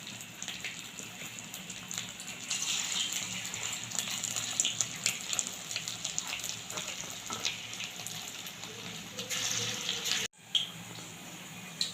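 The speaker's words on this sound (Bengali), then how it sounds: "কড়াই গরম হয়ে গেছে তেল দিয়ে দিচ্ছি এবার একে একে আমি বেলা দিয়ে দিচ্ছি ডিমের পকোড়া" Egg pakoras frying in hot oil in a wok, with a steady, close, hissing sizzle that keeps going, broken by one short gap near the end.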